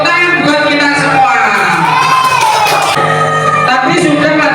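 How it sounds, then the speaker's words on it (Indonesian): Children in a classroom group cheer and shout together, a dense loud burst of young voices whooping and calling out, lasting several seconds with no break. "Tepuk tangan buat kita semua."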